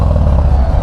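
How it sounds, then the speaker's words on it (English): A Harley-Davidson motorcycle, ridden two-up, puts out a loud, close, deep exhaust rumble. The low throb is steady and continuous, with no speech over it. "hear that exhaust?"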